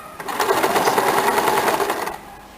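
A sewing machine runs a steady, close burst of about two seconds while double stitching a blouse shoulder seam. It stops abruptly, with no talk.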